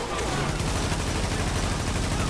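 Dense, continuous burst of gunfire fills a firefight in the shooter game The Division during an attack on the Lincoln Tunnel, loud and unbroken throughout with no voices over it.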